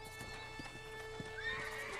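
Horse in Red Dead Redemption neighs with a rising whinny near the end while hooves clip-clop at a steady walking rhythm, moderately close, set against a constant game ambience hum.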